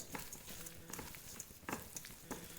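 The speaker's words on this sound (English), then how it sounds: "And we're going to mix it by hand." Kimchi being mixed by hand with Korean red chili paste, a quiet close run of wet squelching and slapping sounds in irregular bursts.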